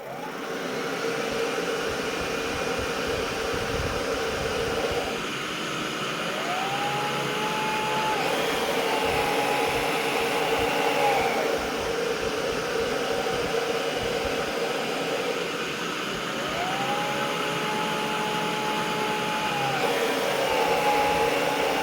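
A steady Miele Triflex HX1 vacuum cleaner drone runs throughout on a rug, with its pitch dipping and rising as the brush roll shifts load, loud and close.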